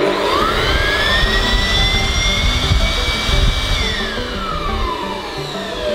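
A DeWalt electric blower with adjustable speed runs loud and close as a steady, high-pitched whine. Its pitch climbs at startup, holds level, then falls away as it slows near the end.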